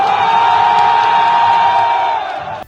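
A large arena crowd at a pro wrestling event roars as CM Punk, the Beast in the World, makes his entrance. The sustained cheering and whooping is loud and dense throughout and eases off only at the very end.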